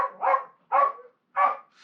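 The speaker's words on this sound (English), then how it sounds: "Fucking dog would start now." A dog barks three times in evenly spaced, loud, close barks, clear against an otherwise quiet background.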